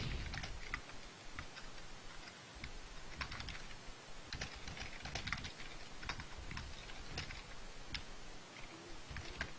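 Java code is typed on a computer keyboard in a quiet room: soft, steady key clicks with irregular rhythm and occasional louder taps, close but faint.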